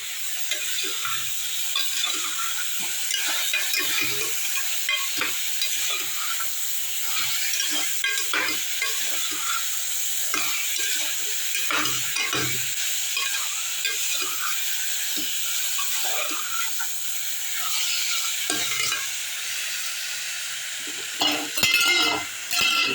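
One chopped tomato sizzles and fries in a pan while being stirred, a steady close crackle with repeated scraping stir strokes throughout.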